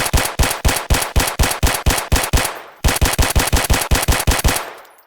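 A gun fires in the Roblox ACS weapon system: two long automatic bursts of evenly spaced, loud, sharp shots, with a brief pause between them and no voices.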